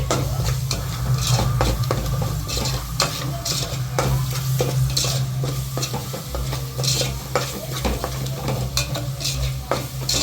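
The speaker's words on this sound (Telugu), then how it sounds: "అన్నీ వేసేసాక బాగా మిక్స్ చేయాలి." A spoon scrapes and clinks steadily in a pan while a spice mixture for crab curry is stirred. The strokes come in a continuous rhythm over a low sizzle, close and fairly loud, with no talking.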